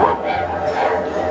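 A dog's bark is imitated by buzzing the lips through a didgeridoo, giving short yapping bursts over a buzzy drone, close and fairly loud.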